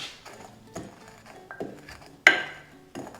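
Black peppercorns being coarsely crushed for cacio e pepe: several separate hard knocks and grinding scrapes against a kitchen surface, quiet and close, with one sharper crack near the end.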